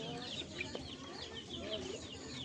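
Chickens cluck steadily at close range while being fed a protein-rich green plant, with overlapping calls from several birds and a rooster-like crow mixed in over the continuous flock noise.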